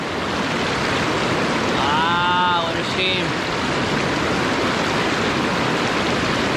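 A fast river rapid with recirculating water, swollen by rain, roars as loud, dense rushing noise throughout, while someone speaks briefly over it.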